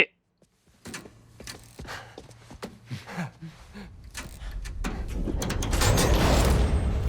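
An elevator mechanism in Marvel's Spider-Man 2 clanks and thuds in irregular knocks, then builds into a rising mechanical rumble and whir that grows louder toward the end.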